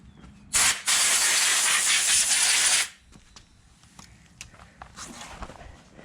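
Compressed air blasts debris off Stihl MS 290 chainsaw parts in one loud, steady hissing burst lasting about two seconds, followed by quieter clicks and handling noises.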